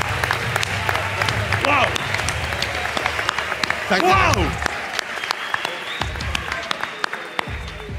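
Applause from a live audience at a big staged evening event, a steady wash of clapping running under excited shouting and a loud commentator's voice, with a brief swell near the middle before thinning out.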